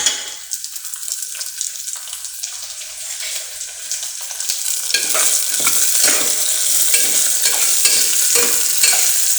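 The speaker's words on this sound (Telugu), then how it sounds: "పెసరపప్పు కొంచెం వేగిన తర్వాత బీన్స్ని అందులో వేస్తే బీన్స్ కూడా బాగా నేతిలో వేగుతాయి" Green beans and moong dal frying in ghee in a pan, a continuous sizzle that grows louder and fuller after a few seconds, with rhythmic stirring strokes scraping through it.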